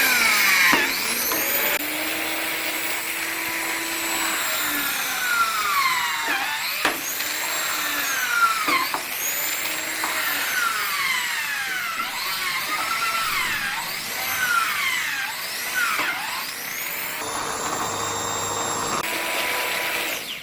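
A DC-motor drill machine powered by a 2.7 A, 59 V DC e-bike charger whirs continuously at close range, with a steady motor whine that rises and dips in pitch as the speed changes, and no talk.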